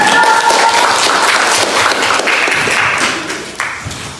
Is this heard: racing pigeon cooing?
no